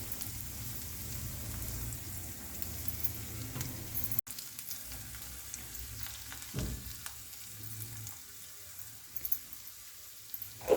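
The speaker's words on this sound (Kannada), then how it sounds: "ಇವಾಗ ಉಪ್ಪು, ಅರಿಶಿಣ, ಬೆಳ್ಳುಳ್ಳಿ, ಸಾಸಿವೆ, ಜೀರಿಗೆ ಎಲ್ಲನೂ ಫ್ರೈ ಮಾಡ್ತಾಯಿದ್ದೀವಿ" Salt, turmeric, garlic, mustard seeds and cumin frying in a pan for chudwa, a steady close sizzle with soft stirring scrapes and a brief break partway through, no voices.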